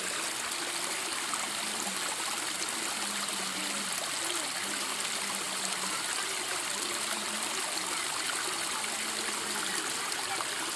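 A small waterfall stream in Koodaranji rushes and splashes continuously, a close, full wash of flowing water with no talking.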